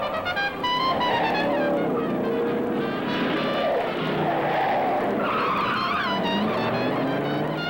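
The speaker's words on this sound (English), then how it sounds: "They're braking way up on the hill, ladies and gentlemen, and using their motors to come down on." Hot rod race cars on a 1957 road course brake hard and skid on the downhill stretch. Loud, continuous tire squeals ride over roaring engines, close up and without pause.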